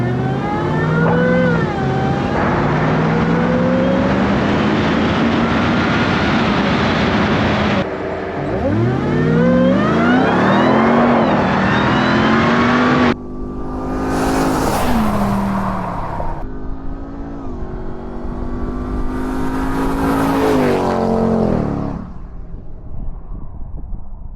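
A Ram TRX pickup truck drives and accelerates, its engine revving up through gears with rising pitch, loud and close, then easing off and surging again before settling.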